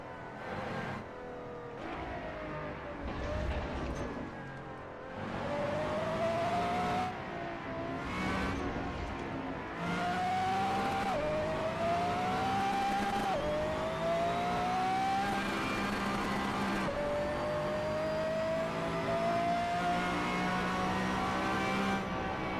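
Car engine revving in the Assetto Corsa racing game, driven with a G29 steering wheel: a steady, loud engine note climbs in pitch through repeated rising sweeps as gears change, continuous throughout with no talk.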